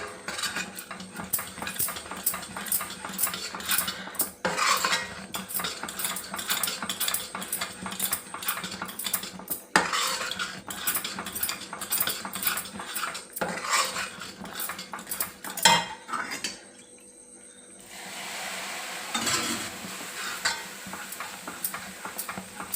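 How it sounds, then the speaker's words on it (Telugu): Ghee being stirred into flour in a pan for Mysore pak gives a long run of rhythmic metal utensil scrapes and clinks against the vessel. The clinking briefly pauses near the end, then resumes more quietly. "నెయ్యి ఒక కప్పు అది వేసుకుంటూ కలుపుకోవాలి ఈ పిండిలో కలిసిపోయేదాకా"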